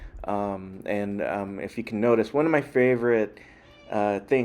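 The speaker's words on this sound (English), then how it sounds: "that's my cat" A house cat meows repeatedly near a Star Wars HasLab Cantina display, a series of close, clear, drawn-out meows in uneven rhythm, with someone talking between and over them.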